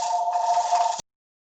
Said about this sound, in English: We can answer the phone